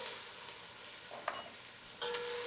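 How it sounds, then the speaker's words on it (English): Onions and celery frying in a pan give a steady soft sizzle close by, with a couple of brief clinks of a utensil partway through and a slightly louder burst of sizzling near the end. "So it sounds like our onions are beginning to soften here."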